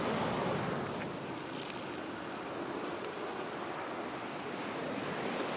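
Ocean water washing against the shore during an outdoor Hawaiian ceremony, a steady, close rush of surf with wind buffeting the microphone, continuous and fairly loud without pause.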